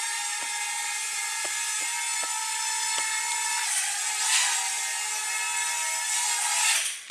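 A Simrex X300C quadcopter drone descending to land, its propellers giving a steady, close, high-pitched whine with a few faint clicks early on and a brief swell toward the end.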